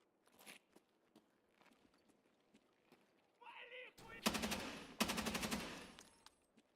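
Two bursts of automatic gunfire in the video game Escape from Tarkov, fired in rapid strings from close range after a quiet stretch of footsteps and shuffling.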